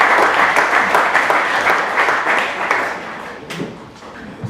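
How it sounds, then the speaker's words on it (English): Audience applause welcoming a council speaker at a fundraiser, dense steady clapping from a room of people that slowly thins out toward the end. "Round of applause,"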